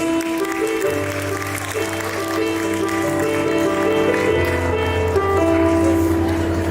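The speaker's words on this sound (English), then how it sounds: "Please give them a huge round of applause" An audience at a school convocation ceremony claps after a performance, a steady, fairly loud patter of applause mixed with sustained tones of music playing.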